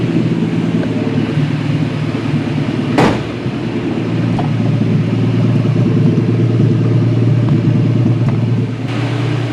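A 1965 Ford Mustang restomod idles slightly fast with a steady, loud low rumble, and one brief sharp click or knock cuts in partway through.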